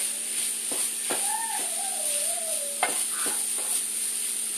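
Sausage fries in a pan, sizzling steadily while a utensil scrapes and stirs it in a few distinct strokes, with a squeaky tonal scrape in the middle.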